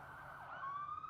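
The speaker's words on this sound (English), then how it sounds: "Ambulance sirens." A wailing ambulance siren in the video game Omori rises and sweeps over a steady electronic drone, loud and alone with no talking.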